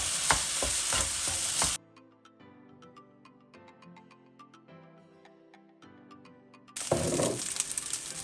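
Egg fried rice stir-fried with light soy sauce in a wok on the stove: loud, bright sizzling at the start and end, with a quieter stretch of light clicks and taps between, heard close with no talking.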